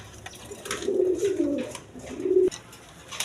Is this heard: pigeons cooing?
yes